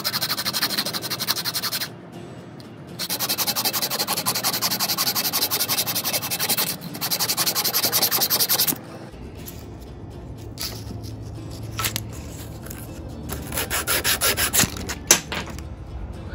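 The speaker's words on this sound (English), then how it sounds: "I'm just gonna sand it, use a piece of like 80 grit sandpaper to round out the edges." Coarse 80 grit sandpaper rubs briskly over a small wooden fishing lure, long bursts of close, loud, raspy back-and-forth sanding separated by pauses and softer handling sounds.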